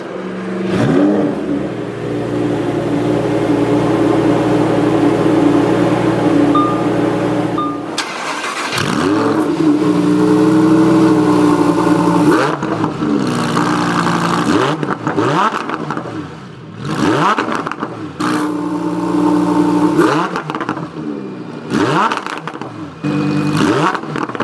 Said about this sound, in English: So with my foot on the brake, we'll go ahead and flip up the engine start-stop button and go ahead and start it up